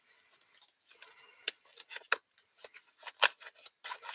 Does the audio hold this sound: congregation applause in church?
no